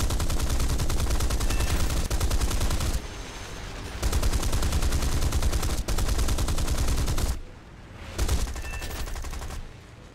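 Machine guns of a Spitfire fighter in the War Thunder video game fire in long, loud sustained bursts. The bursts break off briefly, with short pauses and quieter gaps between them.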